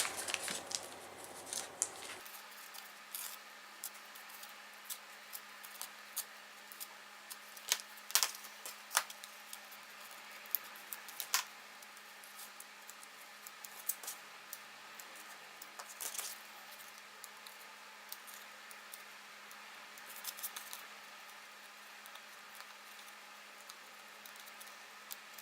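Scissors trimming away embroidery stabilizer: small crisp snips and clicks scattered irregularly, quiet and close, over a faint steady hum.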